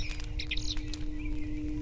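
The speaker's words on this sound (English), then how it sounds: "A hedge sparrow, quite tame." A tame hedge sparrow in the video game The Lost Crown gives a quick run of high, thin chirps close by over a low, steady background hum.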